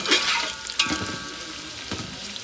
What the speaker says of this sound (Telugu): ఆనియన్స్ అనేది మంచిగా ఫ్రై అవ్వాలండి.